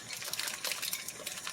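Vegetable mix for bulgogi being poured into a pan, giving a steady close wet rush and splatter across the whole moment with no voices.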